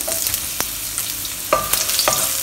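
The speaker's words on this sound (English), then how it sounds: "We'll fry our aromatics first. Add in 1 piece of cinnamon bark, about 2 pieces of star anise, 10 grams of ginger sliced up." A piece of cinnamon bark, two star anise and sliced young ginger fry in oil over medium heat, giving a steady close sizzle punctuated by several sharp clinks and scrapes of a utensil, with no talking.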